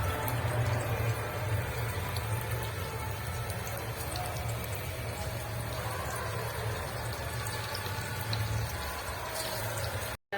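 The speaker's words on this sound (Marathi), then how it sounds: "आपलं तेल गरम झालेलं आहे, अशा पद्धतीत तळून घ्यायचं" Vadi fritters fry in hot oil with a steady, dense sizzle and bubbling hiss that holds evenly from start to finish, close and alone without any voices.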